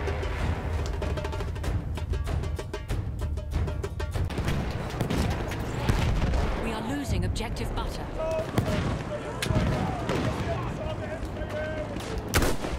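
Dense rapid gunfire and distant explosions in Battlefield 1 multiplayer battle, sharp cracks layered over continuous rumbling combat, with a player talking over the noise.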